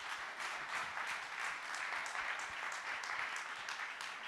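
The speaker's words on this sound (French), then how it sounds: "On vous applaudit à nouveau pour vous raccompagner." An audience applauds at an awards evening, giving steady, dense clapping that stays even throughout, heard from a distance at a moderate level.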